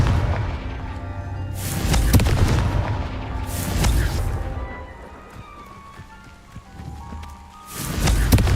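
Confringo spell explosions in Hogwarts Legacy, a few heavy booming blasts spaced several seconds apart, loud and close with rumbling tails.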